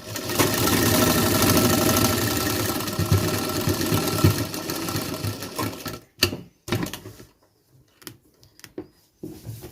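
A sewing machine stitches close by with a loud, continuous whirring run lasting about six seconds. It then stops and restarts in short, choppy bursts, with no talk over it.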